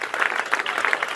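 Church congregation claps briefly, a dense, lively round of applause at moderate volume.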